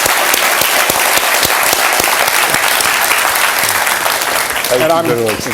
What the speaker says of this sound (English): Please join me in one last round of applause as the President departs.